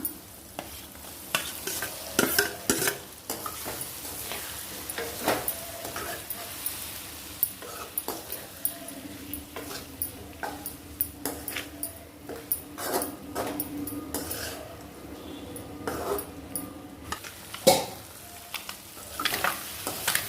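A spatula scrapes and stirs chopped boiled egg in a pan with a soft, steady sizzle, repeated clinks and scrapes over about twenty seconds.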